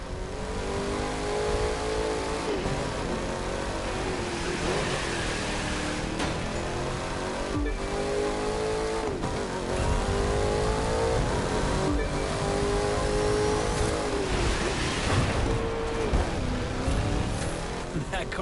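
A sleeper car in the racing game The Crew 2 accelerates hard, its engine droning steadily and loudly through gear changes for the whole stretch, with a voice talking over it.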